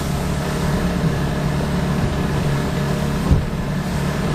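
A boat motor drones steadily and loudly in high winds and waves, a continuous engine hum with broadband wind and water noise and a brief thump near the end.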